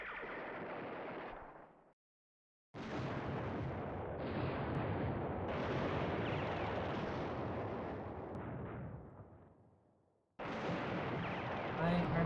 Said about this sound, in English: let's put the HQ company under some bombardment